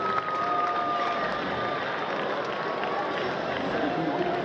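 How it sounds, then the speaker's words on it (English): A baseball crowd at LMCU applauds and cheers after a head-first diving catch, a broad, distant wash of clapping under a broadcaster's talk. "that brings a round of applause from the LMCU faithful"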